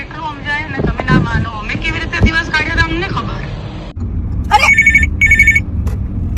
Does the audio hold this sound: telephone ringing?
yes